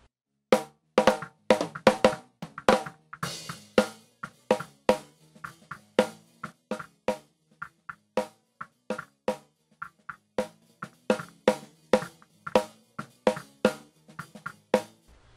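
Snare drum hits processed with a 620 Hz EQ boost, distortion and compression, playing a steady groove of punchy, close hits with short decays, alone with no talk.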